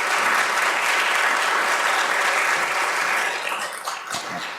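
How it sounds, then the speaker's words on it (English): A live audience applauds a panel of speakers at the close of a technology session, steady dense clapping that holds for several seconds, then thins and fades toward the end. "Could you give a big round of applause"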